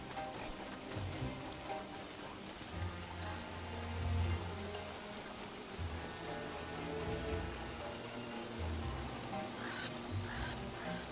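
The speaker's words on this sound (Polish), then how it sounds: "Ale do tego ten deszcz, to wiecie." Steady rain falling in the video game Don't Starve, a continuous wash of drops and splatter with low rumbling underneath and no speech.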